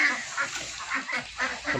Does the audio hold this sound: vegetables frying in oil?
no